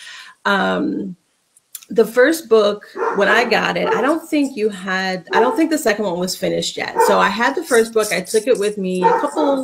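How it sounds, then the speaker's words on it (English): A pet dog barks and yips in the background of a room, several short bursts scattered under a woman's continuous speech. "My dog always feels the need to chime in."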